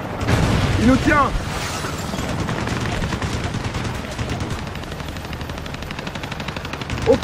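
Aircraft cannon fire in the jet combat game Ace Combat: Assault Horizon, set over a city, with rapid continuous bursts and explosions running throughout and game radio chatter mixed in.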